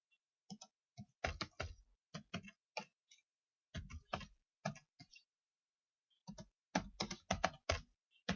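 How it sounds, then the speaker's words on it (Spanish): Keys clatter on a computer keyboard, including the Enter key, in short irregular bursts of crisp clicks separated by brief pauses, close and clear with no talking. "Para cambiar de renglón simplemente damos Enter."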